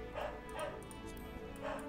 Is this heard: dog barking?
yes